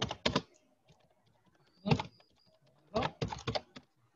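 Bursts of computer keyboard typing as a message is entered, clustered key clicks in three separate flurries with quiet pauses between, close and fairly soft, no talking.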